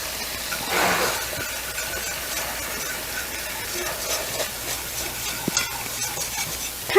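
Three tablespoons of flour stirred into three tablespoons of melted butter in a pan to form a roux, giving a steady soft scraping with a faint sizzle, a brief louder swirl early on, and no talking.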